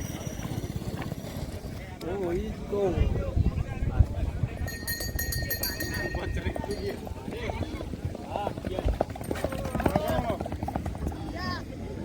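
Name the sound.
horse running in a horse race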